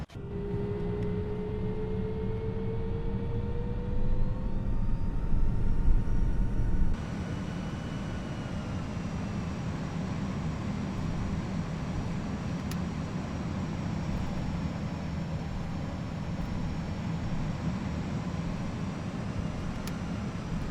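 An easyJet Airbus A320 in the Prepar3D flight simulator rolls for takeoff from Bristol, its engines a steady, loud roar with a rising whine that swells and then settles into a sustained drone, with no talking.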